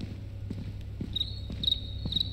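Cricket chirps in a video game play as short high trills, about three in quick succession over a low steady hum with soft thuds.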